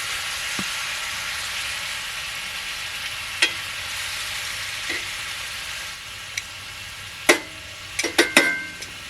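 Cooking oil sizzles in a pan on a wood stove as a steady, close hiss, broken by a few sharp taps and clicks near the end.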